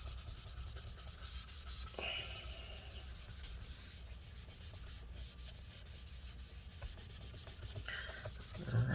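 A MacBook Air 13-inch A1466 from 2017 being rubbed clean of sticky residue, a close, steady scrubbing with a few short bursts, no talking.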